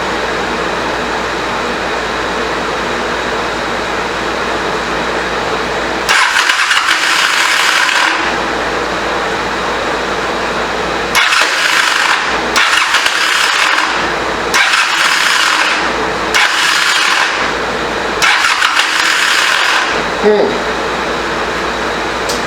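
A 1985 Honda CMX 450 Rebel motorcycle engine with a sticking choke cranks in several separate bursts of starter whirring and sputtering, loud and close, each attempt cut short without the engine catching.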